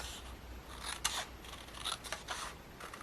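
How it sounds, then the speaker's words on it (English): Scissors snip through paper along a pencil line while making quilted paper tags, a few short, crisp cuts close by with quiet pauses between them. "I'm going to cut on the side of the line so I don't have that pencil mark"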